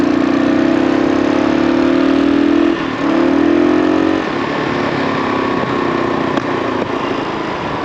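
A used first-generation Kawasaki KLR 650 motorcycle's single engine revs up and pulls hard, with a steady drone that rises in pitch, dips briefly, then climbs again. The sound is loud and close, with no talking.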